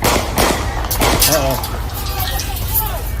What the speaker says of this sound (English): Oh, those are gunshots down there.